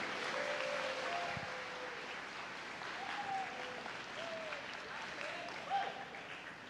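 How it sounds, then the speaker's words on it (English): Audience applause fills a campus gathering on love and belonging, a steady moderate clatter of clapping hands that continues throughout with a slight swell near the end. "Give them another round of applause."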